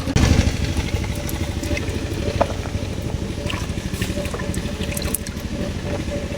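A machine ploughs a field beside a village kitchen, giving a continuous rumbling engine drone that stays steady and fairly loud throughout.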